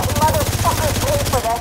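Rapid gunfire rattles through a firefight in the video game The Division 2, loud bursts running under a voice speaking throughout.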